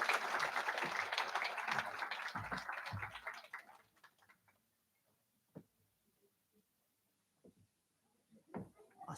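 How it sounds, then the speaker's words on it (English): Applause at a live on-stage award presentation for Colleen, a fairly loud crowd clapping for about four seconds before fading into scattered faint knocks and a few isolated sharp taps in near silence. "Can we give another round of applause for Colleen?"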